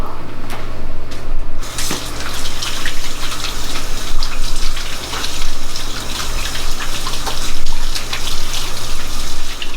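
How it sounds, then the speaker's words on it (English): Tap water runs steadily from a faucet into a sink as hands are rinsed of raw meatball mixture, a continuous close splashing gush with a low hum underneath and no talking. "Let me wash some of this off."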